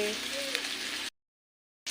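Fish frying in turmeric-coated oil with salt sprinkled over, a close crackling sizzle for about a second that then cuts to silence before briefly returning.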